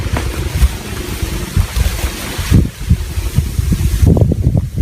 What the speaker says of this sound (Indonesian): Anginnya semliwir.